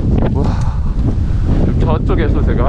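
Heavy winter wind on a Sobaeksan mountain ridge in Korea roars and buffets close against the microphone, a loud continuous rumble with gusty swells.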